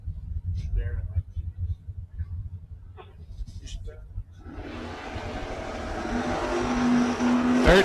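A Camaro and a 1955 Chevrolet launching side by side at a drag strip: a low idling rumble under a public-address announcer gives way to a loud, rising roar of engines accelerating hard.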